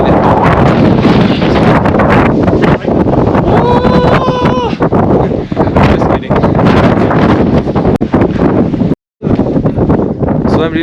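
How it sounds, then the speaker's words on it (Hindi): Strong wind gusts buffet the microphone outdoors near a village bridge in the mountains, a loud continuous rushing roar running throughout the clip, with a brief dropout near the end. "So it's quite windy."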